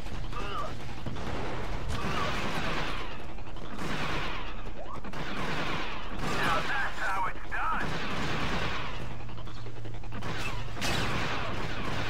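Pistol fire from a sidearm in Star Wars Battlefront 2 on Utapau: fast, repeated shots pop amid explosions and mechanical battle noise, with a voice talking over the action.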